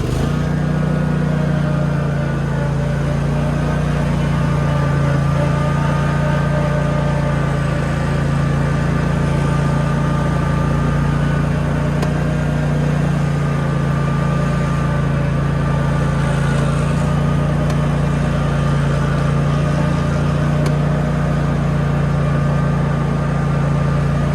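Engine of a Cub Cadet RZT50 zero-turn mower with a Kawasaki FH661V V-twin, running throttled up: a loud, steady, continuous drone close by with no pauses.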